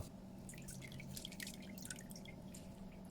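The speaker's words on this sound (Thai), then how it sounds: "บีบมะนาวใส่ลงไป สองลูกเท่านั้นให้พอมีความหอมของมะนาว" Juice from two limes squeezed into a homemade fruit punch gives a faint, soft patter of small drips and trickles over a quiet background, with no voices.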